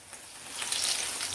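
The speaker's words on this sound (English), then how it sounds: "So it has to be on medium flame while frying." Tuna cutlets fry in oil over a medium flame, giving a soft, steady hiss and crackle that swells slightly over about a second and a half, close and quiet with no voices.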